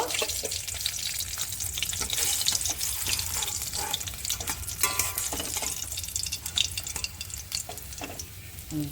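Katla fish sizzling in hot oil in a pan, a steady dense frying hiss with scattered pops and the occasional scrape of stirring, close and continuous throughout.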